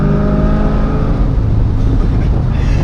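A 730 hp Corvette engine hums and pulls steadily from inside the cabin, a loud, continuous low drone with a mild rise in pitch and no talking.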